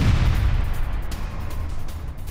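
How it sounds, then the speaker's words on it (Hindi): An explosion follows a strike on a car in Jenin in the West Bank, heard as a loud, heavy rumbling roar that is strongest at the start and stays dense throughout. "कार पर हमले के बाद जोरदार धमाका हुआ।"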